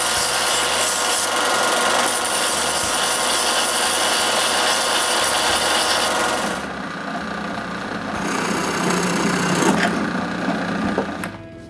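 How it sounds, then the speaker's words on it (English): Rasping and sanding strokes on the ends of a cut wooden dowel handle, continuous and close for about six seconds, then softer, lighter rubbing with scattered scraping toward the end. "Then I cut the dowel to the right length and soften both ends."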